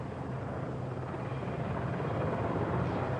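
Loud, steady roar of an RAF rescue helicopter with a throbbing rotor chop, close and continuous without pause, at the 1987 Herald of Free Enterprise ferry disaster.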